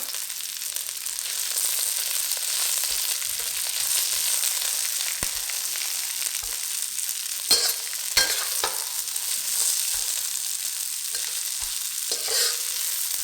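Onions, ginger and chilli sizzle steadily in a hot pan, with a continuous frying hiss broken by scattered scrapes and clicks of stirring, and no talking.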